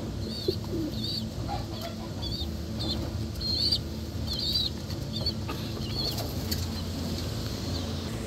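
Pet pigeons in a loft cooing and calling, repeated soft chirps and coos over a low background murmur, fairly faint and close.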